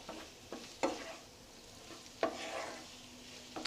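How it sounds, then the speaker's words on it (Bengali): Ground spice masala is stirred into potatoes in a pan: several distinct spoon scrapes stand out over a soft, continuous frying hiss. "যে মশলাটা আমরা গ্রাইন্ড করে রেখেছি সেই মশলাটাকে দিয়ে দিচ্ছি। ভালো করে মিক্স করে নেব।"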